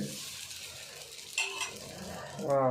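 Thin batter poured onto an older hot tava, giving a soft, continuous sizzle with light scraping and a brief clink near the end, faint and close with no talking.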